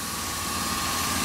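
Idling truck engine that runs strong with no exhaust leaks, a steady, loud, even rumble with a constant hum, close by and uninterrupted, with no talking.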